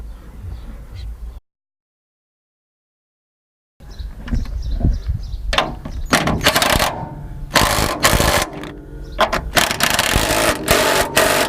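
A ratchet tightens bolts on the thicker rear anti-roll bar of a second-generation Mazda MX-5, with sharp metallic clicks and bursts of ratcheting after a brief silent gap, nearby and fairly loud.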